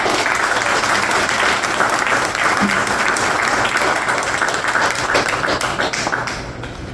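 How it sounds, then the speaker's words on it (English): Audience round of applause at a POW/MIA Remembrance Day ceremony in Sullivan County: dense, sustained clapping from a large crowd, loud and steady throughout before tapering off at the end. "I'd just like to give one more round of applause to Marty, Gene, and our audience."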